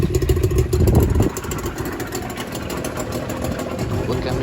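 A Suzuki LJ20V engine idles steadily with a low rumbling exhaust, close by, with a brief heavier rumble at the start.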